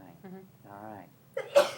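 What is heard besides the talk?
sneeze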